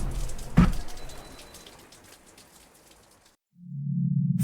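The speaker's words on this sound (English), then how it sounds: "It was raining gently." Gentle rain patters steadily in a garden, a soft continuous hiss with one sharper drop or knock early on, fading out briefly before a low hum rises near the end.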